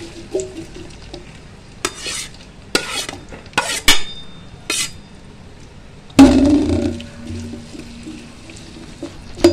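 About half a kilo of onions going into hot oil for biryani, with several sharp clatters and stirring bursts, then a loud sudden sizzle that settles into steady frying.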